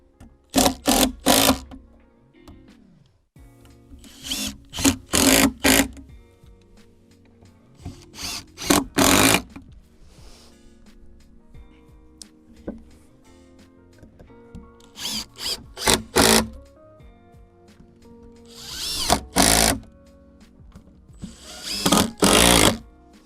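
A power drill drives screws through wooden boards of a three-level garden base in repeated loud whirring bursts of a second or two, separated by quieter pauses, close by and without speech.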